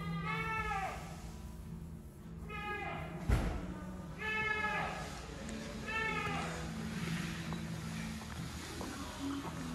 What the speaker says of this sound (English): We have some baby cows. These guys are just a few days old.